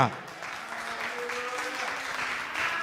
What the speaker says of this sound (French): On nous applaudit bien